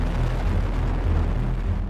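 Deep, continuous roar of a Delta IV Heavy rocket lifting off in 2016, a dense broadband rumble heavy in low bass, steady and loud throughout with no voices.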